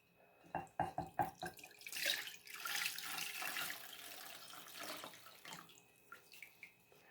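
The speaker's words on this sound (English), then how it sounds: "now all I'm going to do is pour some juice in here" Juice poured into a bowl while making homemade pumpkin pie, starting with a few splashy glugs and then a steady liquid stream that tapers off into faint drips, close and fairly quiet.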